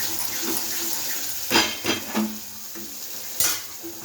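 Soybean curry is stirred in hot oil in a pan, with soft sizzling and several distinct scraping stirs. A few sharp clinks of the spoon rise above the steady hiss.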